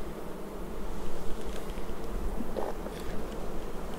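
Honeybees buzzing after being shaken off a brood frame, a soft, continuous droning hum with faint rustling, fairly close and low in level, with no voices.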